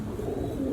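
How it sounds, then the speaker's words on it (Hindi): Malangi pigeon giving a single short, low, soft coo, close by and alone. "ये मलंगी कबूतर है जी"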